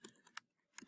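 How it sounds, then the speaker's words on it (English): Quick bursts of computer keyboard typing, several keystrokes in uneven clusters with short pauses between, close and fairly quiet. "I guess I could try"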